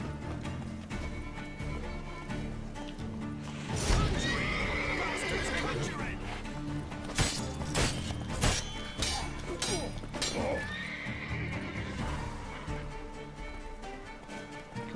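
A horse in The Witcher 3 video game gives a loud whinny over a dense bed of game music and effects, with clopping hooves and crashing impacts around it.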